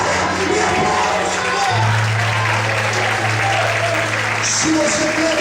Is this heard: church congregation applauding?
yes